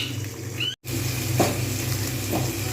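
Eggplant and carrot pieces frying in a pan, a steady close sizzle with a brief dropout and a couple of soft stirring scrapes.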